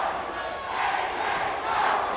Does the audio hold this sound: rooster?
no